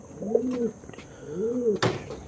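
Old-generation pigeons kept by a fancier coo twice in quick succession, each a soft rising and falling call close by, followed by a short sharp knock.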